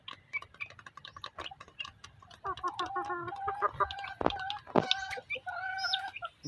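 Chickens, including a small jungle-fowl cross rooster, cluck in short repeated bursts at close range with a few sharper calls among them, over a quiet background.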